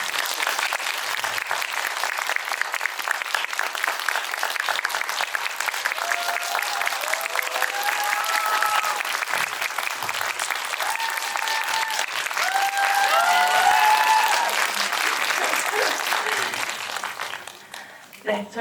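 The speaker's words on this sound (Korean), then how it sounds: "큰 박수 부탁드립니다" A full audience claps loudly and continuously at a film talk event for the Korean film 'Next Sohee' on its opening day, swelling toward the end, with some speech and faint whistles over the clapping.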